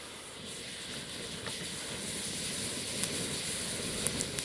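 A homemade smoke bomb made with powder from old Black Cat firecrackers and paper match head primer blows a steady broadband hissing jet outdoors, rising slightly in strength with a few sharp crackles near the end.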